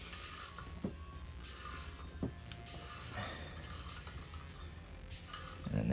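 Valve spring compressor tool being cranked down on an LSX engine, a steady run of close, dry ratcheting clicks and metallic creaks with a faint background hum, no talking.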